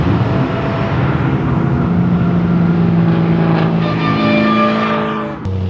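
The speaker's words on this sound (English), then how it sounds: "That diff noise in James is next level" Drift car at a morning session at QR gives off a loud continuous engine and drivetrain drone with a harsh mechanical whine from the differential, fairly close, fading slightly before ending abruptly.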